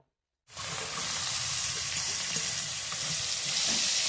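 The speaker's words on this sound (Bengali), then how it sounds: "কাঁকড়াগুলোকে আমি ভালো করে ভেজে নেব।" Crabs for a crab curry drop into hot oil after half a second of silence, then fry in a loud, steady, close-up sizzle that continues without a break.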